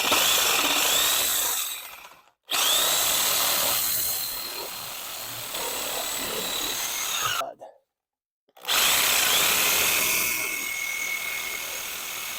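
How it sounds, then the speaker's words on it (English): A Sawzall reciprocating saw cuts straight through wood while a larger window is installed, loud buzzing strokes close by in three long runs broken by brief silences. "I can use the Sawzall, the reciprocating saw, to just guide across and cut those straight"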